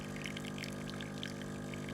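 A Breville BES920 espresso machine with a volumetric fault runs its pump during pre-infusion, giving a steady, faint mechanical hum with a watery gurgle that stays even and continuous throughout.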